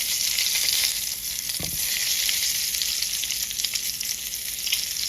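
Duck breast fries in a pan and is gently basted with its own fat. It makes a loud, steady, close sizzle with one brief low clunk of the pan.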